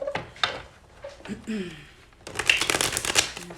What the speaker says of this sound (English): Just as I'm shuffling the deck, I'm using the Cosmic Tarot for this spread.